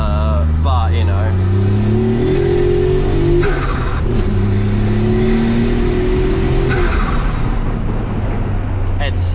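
An E85-fueled turbocharged kei car accelerates while driving, the engine note climbing in rising sweeps through several gears with brief drops between shifts, loud and close inside the cabin, with faint voices at the start and end.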